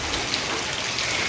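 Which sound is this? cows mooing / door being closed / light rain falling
light rain falling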